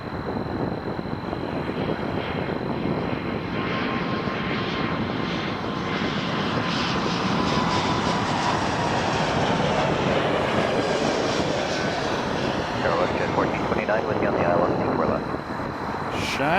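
A Porter Airlines plane passes over Toronto Pearson Airport with a loud, sustained engine roar and wind noise, steady throughout while a voice talks over it.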